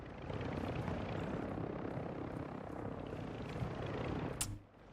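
A helicopter flies in a video game, its steady broadband rotor drone loud and continuous for most of the moment before cutting off sharply near the end.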